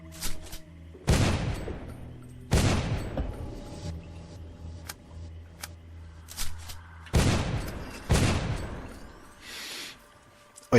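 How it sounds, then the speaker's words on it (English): Shotgun blasts in the first-person shooter Dark Skies, five or six loud booming shots spaced irregularly, each with a sharp attack and a rumbling tail, with quieter game clatter between them. "that shotgun, it really shreds"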